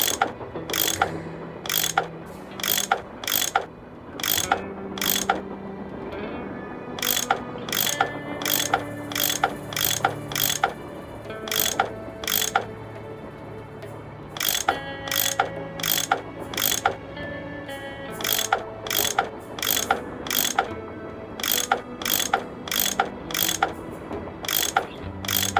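A tool works bolts loose in a Nancy Drew video game, a run of rapid metallic ratchet clicks in quick bursts with short pauses between them, over a soft mechanical background.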